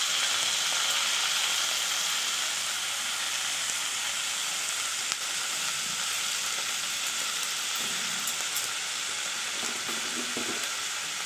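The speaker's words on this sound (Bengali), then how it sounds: "এবার এতে মেথি শাক কুচি দিয়ে দিচ্ছি।" Potatoes and eggplant fry in hot oil with chopped fenugreek leaves, giving a steady, close sizzle with soft crackle throughout and a few faint stirring knocks near the end.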